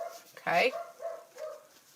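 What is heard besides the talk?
dog barking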